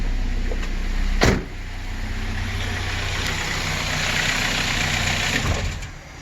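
A Ford Focus engine with a bad alternator idles with a steady hum, a sharp clunk comes early, and the engine keeps running before its sound drops away near the end.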